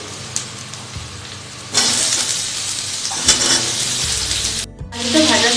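Potatoes tossed into a pan of fried onions for a cabbage curry set off a loud, close sizzle that surges when they hit the oil, with a few clanks and stirring scrapes.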